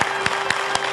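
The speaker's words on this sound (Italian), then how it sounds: "un ultimo applauso va proprio ai Santo California" Audience members on the Italian TV show MilleVoci clap in a brief, even rhythm, about four distinct claps over a steady background hum.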